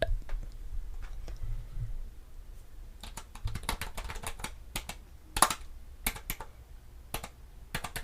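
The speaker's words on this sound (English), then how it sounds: "let me type it in" Fingers type on a computer keyboard up close in a quiet room, the soft clicks coming in quick bursts with short pauses between them.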